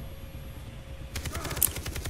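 Rapid automatic gunfire rattles in a steady burst after a quiet moment, loud and continuous over a game's background hum, in Far Cry 3.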